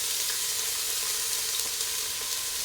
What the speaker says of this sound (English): Stir fry the onions